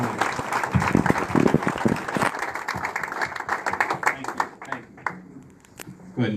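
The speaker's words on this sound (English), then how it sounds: "Another round of applause for coming." A crowd applauding at a Missouri political gathering for Governor Mike Parson, dense sustained clapping that thins out toward the end, with voices talking underneath.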